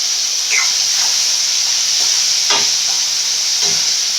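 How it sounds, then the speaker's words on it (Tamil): Pieces of tomato dropped into onions frying in a pan while cooking a Tamil dish, a steady close sizzle with brief stirring scrapes and hissing bursts running throughout. "இப்போ வந்து ரெண்டு துண்டு தக்காளி போட்டுக்கலாம்ப்பா"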